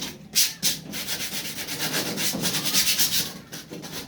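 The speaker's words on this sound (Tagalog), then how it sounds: "Liha na lang yan." Sandpaper is rubbed steadily by hand over a surface during home repair work, giving a continuous close, rasping scrape in quick back-and-forth strokes.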